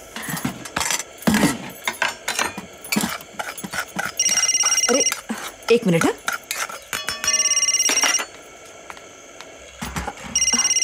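A telephone rings in a busy home kitchen where halwa is being cooked, its repeated electronic ring bursts standing out over clinking dishes, jangling sounds and overlapping talk from several people.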